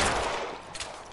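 A single sharp gunshot bursts out, then decays into a fading rumble and a faint second crack, fairly quiet and with no voices.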